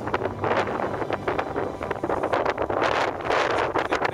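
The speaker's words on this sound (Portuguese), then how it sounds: "Até as gaivotas são levadas pelo vento" Strong wind buffets the microphone in gusty, roaring surges under a dark rain cloud, continuous and loud with rustling bursts rising and falling.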